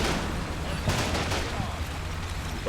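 Scattered gunfire and muffled battle noise from a Combat Mission game firefight aimed at a building, a dense rumbling backdrop with a couple of sharper cracks, fairly steady and moderately loud.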